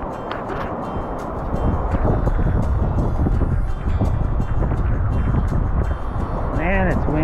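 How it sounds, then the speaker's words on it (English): Strong wind blows across a river at daylight during steelhead drift fishing, buffeting the microphone as a loud, continuous roar that swells and gusts throughout. "Man, it's windy."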